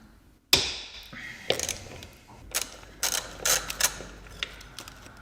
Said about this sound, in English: So now let's unbolt the master brake cylinder from the brake booster.